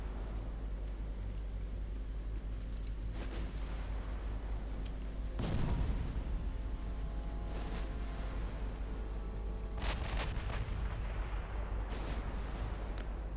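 Six-inch naval cruiser guns firing in Ultimate Admiral Dreadnoughts, a few distant deep booms spaced apart over a constant low ship rumble.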